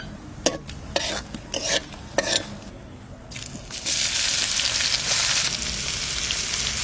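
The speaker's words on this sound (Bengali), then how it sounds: "আর একটু সরষের তেল দিয়ে দিচ্ছি, জিরে, শুকনো লঙ্কা," Cumin seeds and dried red chilies hit hot mustard oil in a pan, first with a few clinks of stirring, then a loud, steady sizzle that carries on to the end.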